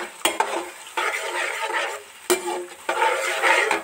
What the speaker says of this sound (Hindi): इसे अब हम थोड़ी देर भूनेंगे, और ताकि टमाटर भी सॉफ्ट हो जाए अच्छी तरीके से